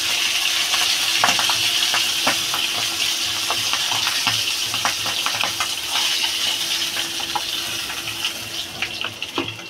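Pabda fish frying in hot oil in a home kitchen gives a steady, close sizzle with scattered crackling pops throughout, and no one speaks.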